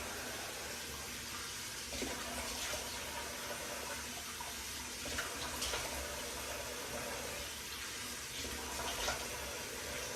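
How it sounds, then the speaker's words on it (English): Running tap water splashes steadily in a bathroom sink while someone rinses hands and splashes water onto their face, a soft, continuous wash with a few brief louder splashes. "I'm going to splash a little bit more water on my face"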